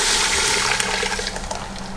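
Liquid pours steadily into a cooking pot, a continuous rushing, splashing flow that eases off slightly toward the end, with no voices.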